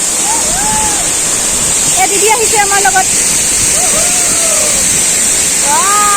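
Rushing water of Dikoy waterfall in Nagaon, Assam, a constant loud roar on a windy day, while a person speaks briefly over it and other voices and calls rise in the middle and near the end.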